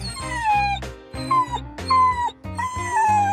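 An excited dog arriving at a dog park whimpers and yips in high, wavering whines, loud and close, in several rising bursts with brief pauses.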